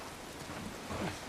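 Steady rain falls in the video game The Last of Us Part 1, a dense, hissing patter on surfaces with a low rumble beneath it, continuous and fairly quiet, with no one speaking.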